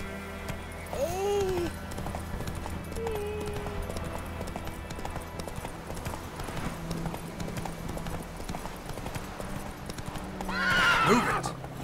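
A horse in The Witcher 3 gallops with rapid rhythmic hoofbeats, neighing loudly near the start and again near the end, while a voice speaks briefly over it.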